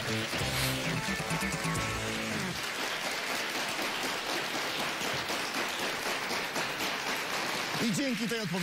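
The studio audience of the Polish quiz show Awantura o kasę bursts into sustained, dense applause, a loud rain-like wash of clapping, with a host's voice talking over the start and end.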